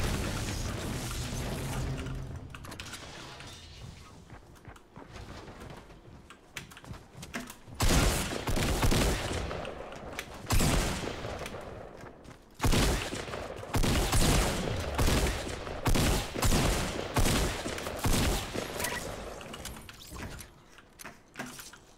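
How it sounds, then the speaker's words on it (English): Shotgun gunfire in the video game Fortnite during a battle royale fight: loud, booming blasts in bursts with dense game noise and mechanical clatter throughout. "This white shotgun does not do enough."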